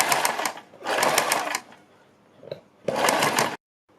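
A sewing machine stitches a fabric strip down along a marked line in three quick, loud runs of rapid mechanical clatter, separated by short pauses and a small click.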